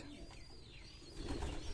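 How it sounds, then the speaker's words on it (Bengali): Rajshahi Giribaz pigeons murmur at a pigeon farm in Sonamasjid, faint low cooing with a soft rustle of wings in a short, quiet stretch. "আমার সবচাইতে জনপ্রিয় কবুতর হলো রাজশাহী গিরিবাজ"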